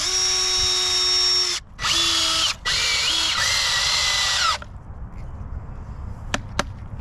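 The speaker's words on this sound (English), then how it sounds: "Drill this piece of wood onto the stump here." A power drill drives a screw through a piece of wood into a stump: three loud, close whirring bursts with short pauses, then quiet with a couple of sharp clicks.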